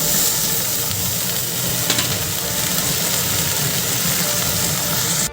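Cumin, ginger and dried dhekia fern greens fry in a pan with a steady, close sizzle and hiss that holds evenly for about five seconds, with no voices.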